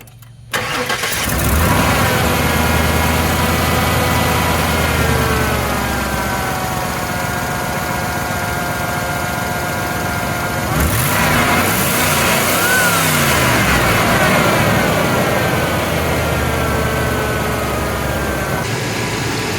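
A 1998 Chevy 3500 truck engine runs steadily while driving down the road, a fairly quiet, continuous mid-pitched hum with shifting tonal whine and a brief surge partway through, close and unbroken.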